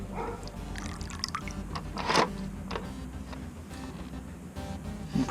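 Water seeps into a plastic boat hull pushed down in the water, giving soft sloshing and dripping liquid sounds with a louder splashy burst partway through, heard up close with no talk.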